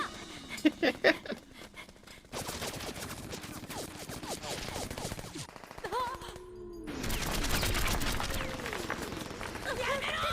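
Gunfire in an episode of the RahXephon anime, with rapid bursts of shots at the start and then sustained loud action noise and overlapping voices through the rest.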